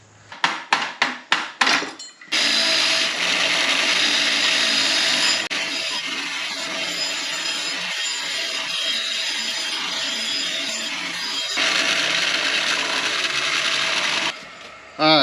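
Rust is cleaned off the backing plate of a Manco Intruder II: a few sharp knocks at first, then loud continuous rasping and scrubbing that lasts several seconds, with a brief change partway through before it stops abruptly.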